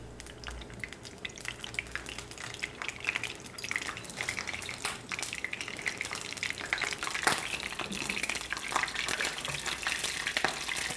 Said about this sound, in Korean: 기름에 넣어서 노릇하게 튀겨주겠습니다.